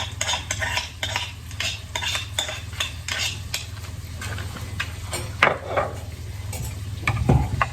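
Garlic and shallots cooking in a pan for garlic butter chicken bites, a soft sizzle under frequent scraping and clinking of a utensil against the pan, over a steady low hum, close and without speech.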